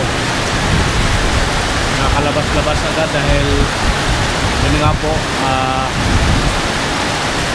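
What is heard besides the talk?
heavy rain pouring outside the room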